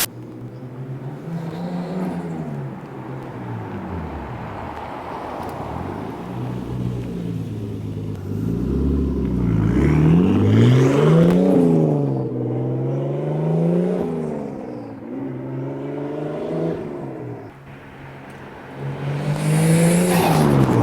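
Inside a 1998 Nissan Skyline R34 GT-R on a drive in Tokyo, the engine hums and rises through revs with rumbling surges and gear changes, heard close from the cabin without talk.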